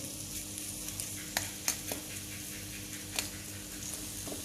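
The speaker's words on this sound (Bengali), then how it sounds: "একটু লোহার খুন্তি নিয়েছি তাহলে নেড়ে দিতে সুবিধা হবে" An iron spatula stirs olive pickle (jalpai achar) in a pan over the stove, making a soft sizzle with a few sharp scrapes and taps of metal on the pan. It is fairly quiet and has no speech.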